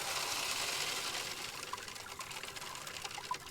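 Water flows through a big blue DIY sluice box during gold prospecting in a forest, a soft, steady gushing wash with faint trickles and splashes, fairly quiet and with no talk.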